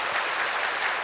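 A church congregation applauding together, a dense, even burst of clapping from many hands.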